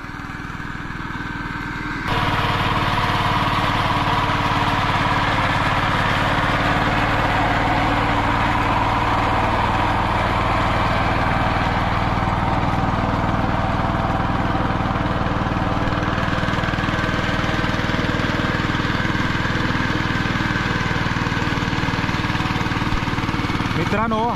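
A two-wheel diesel tractor engine running steadily at a rice field, a loud, continuous low rumble that starts after a brief quieter moment and holds an even drone throughout.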